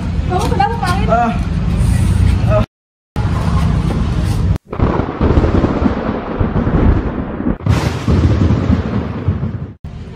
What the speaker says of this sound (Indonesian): Setelah tersambar kilat,